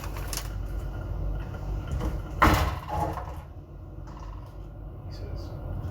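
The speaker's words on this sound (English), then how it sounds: "it's banging the door of the fridge against the handle of" A fridge door bangs against a handle in a home kitchen during cooking, giving a couple of sharp, close knocks, the loudest midway through, over a steady background rumble with faint voices.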